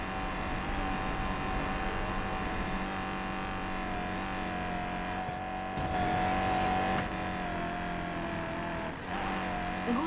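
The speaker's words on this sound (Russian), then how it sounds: "гонщики наш парень Тай взял на удивление мощный старт" Race cars roar at the start of a street race in the Need for Speed Payback video game, a steady loud engine drone with shifting revs and a few brief whooshes.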